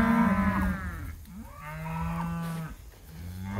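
Cattle bellow in long, drawn-out moos during a cattle drive, one low call after another, loud and close with brief pauses between lowing.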